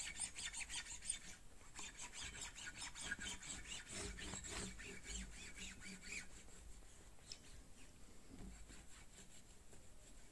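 Guitar strings are rubbed clean of rust with quick, faint, close squeaking and rasping strokes in a steady back-and-forth rhythm, with no voice over it.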